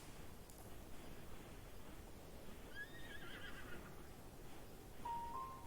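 Horse in the video game Breath of the Wild whinnying in a short rising call midway, faint over a steady hiss of ambient game noise, with a brief tonal chime near the end.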